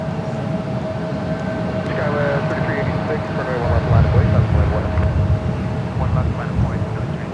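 An airplane comes in on runway 28 left at San Francisco airport, a steady distant jet whine and roar swelling louder toward the end, with a voice talking over it.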